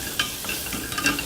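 Ingredients for vegan black bean tacos sauté in a pan, a close, steady sizzle and hiss with light stirring and faint clinks of a utensil against the pan.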